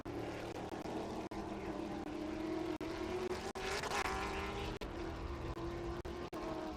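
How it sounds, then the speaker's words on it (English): A Chevy Camaro TA2 race car runs in Trans Am qualifying at Watkins Glen, a steady distant engine drone that swells briefly as it passes, heard faintly throughout. "There's the 8 car, that's Carson Brown. The Pay Cafe Ebb Logistics, Scott Legacy Racing M1 race car, Chevy Camaro"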